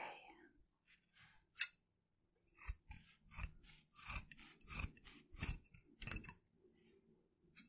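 Crisp scissors snipping close to the ear in a quiet ASMR setting, a single sharp cut followed by a run of irregular quick snips and soft rubbing, with faint whispered speech woven among them.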